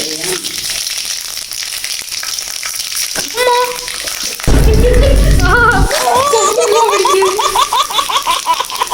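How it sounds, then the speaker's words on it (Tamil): Fennel seeds splutter and crackle in hot oil for a Sri Lankan prawn curry, a loud, dense sizzle bursting out for a couple of seconds, with someone talking before and after. "தெரிக்குது பெருஞ்சீரகம்"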